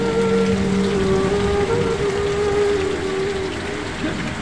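Heavy rain falls in a steady, dense wash of noise, with a low tonal hum running underneath and no clear speech over it.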